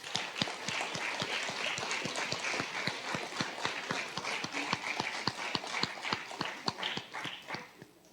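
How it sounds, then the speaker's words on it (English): Audience clapping after an advanced school orchestra concert, a dense, steady round of applause with sharp individual claps standing out, sustained for several seconds before easing off at the end. "let's give them another round of applause"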